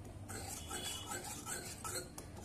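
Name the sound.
mixing milk powder and crushed sugar candy into malai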